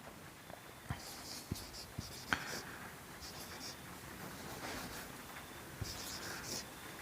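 A pen writes on paper during a class 11 physics lesson on the work-energy theorem: faint, scratchy strokes with a few soft taps, quiet and close against low background noise.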